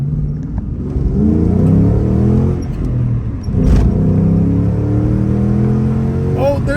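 A 2007 Ford Mustang GT V8 accelerating hard, loud rising engine roar through the gears with a brief shift dip, heard from inside the car with a window down.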